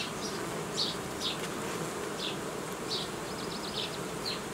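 Honeybees buzz around a hive frame in July, a dense steady drone with scattered higher whines from individual bees passing close.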